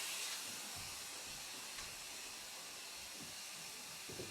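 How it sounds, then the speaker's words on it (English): A central vacuum system runs with a steady, airy hiss and soft whoosh, fairly quiet and constant inside the living space, with no voices over it. "Let's give the central vacuum one more listen."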